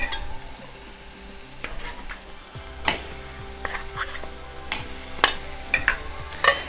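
Ground masala paste being sautéed in a pan for a Konkan clam dish, a steady sizzle broken by scraping stirs and sharp spatula knocks at irregular intervals, close by, with no talking.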